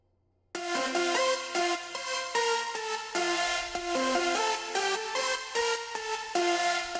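After a short silence, future bass piano and synth lead melodies come in, playing a bright, busy line over sustained chords, steady and prominent with no talking.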